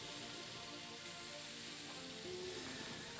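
Steaks sizzle steadily in a hot pan just after being flipped, a continuous broadband frying hiss with faint pops, moderately quiet and alone without talk.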